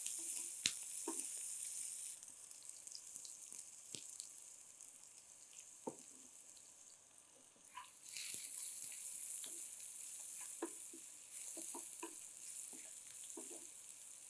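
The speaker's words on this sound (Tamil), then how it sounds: "இந்த வெங்காயமும் பூண்டும் பார்த்தீங்கன்னா இப்போ நல்லா கிறிஸ்பியாக நமக்கு வந்து ஒரு ப்ரௌன் ஷேட் வர ஆரம்பிச்சிருச்சு" Onion and garlic fry in oil until brown and crispy, a soft, continuous sizzle with scattered small pops and occasional stirring scrapes, faint and fairly close.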